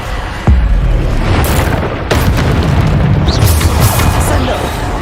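Heavy booming spell impacts from the Descender curse in Hogwarts Legacy, a loud deep thud at the start followed by a dense rumbling wash with a second hit partway through, all close and sustained without any talk.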